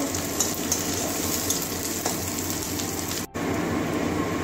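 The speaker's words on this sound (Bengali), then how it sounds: "পেঁয়াজটা ভালো করে ভেজে নেব বাদামি কালার পর্যন্ত।" Onions and chopped green chilies fry in oil until brown, a dense, steady sizzle filling the space, close and loud with one brief dropout near the end and no talking.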